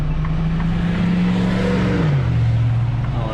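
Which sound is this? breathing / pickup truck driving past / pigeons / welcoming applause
pickup truck driving past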